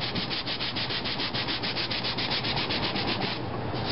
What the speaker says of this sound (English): Starting to scuff some paint right here.